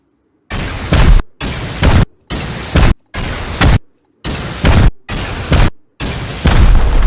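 Rocket explosions in the game Rust, a run of seven loud, heavy booms, each followed by a brief rumbling tail and separated by short silences.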